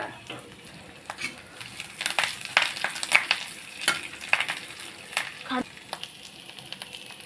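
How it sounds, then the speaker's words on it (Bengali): Curry leaves hit hot oil and crackle sharply, with a dense run of pops and spits over a frying hiss, close and fairly loud. "দিয়ে দিচ্ছি কারি পাতা"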